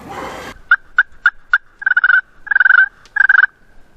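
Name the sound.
wild turkey gobbling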